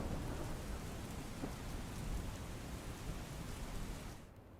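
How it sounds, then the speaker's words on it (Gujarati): Steady heavy rain pours in Ahmedabad with rumbling thunder mixed in, a dense continuous wash of sound that fades out near the end, with no voices. "2 દિવસથી અમદાવાદમાં સતત વરસાદ પડી રહ્યો છે"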